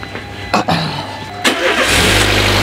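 A Peugeot 207 four-cylinder engine cranks briefly with a couple of starter bursts, then catches and settles into a loud, steady idle close by.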